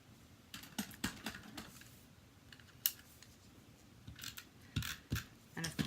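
Scissors snipping a paper square for a handmade quilt card, several quiet close cuts in small bursts with pauses between, alone with no talk.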